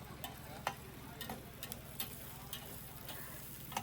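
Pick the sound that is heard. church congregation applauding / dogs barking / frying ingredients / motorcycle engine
frying ingredients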